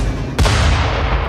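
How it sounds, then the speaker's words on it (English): A naval gun fires a single warning shot in the film Battleship: one sudden loud blast followed by a sustained rumbling tail. "Fire warning shot."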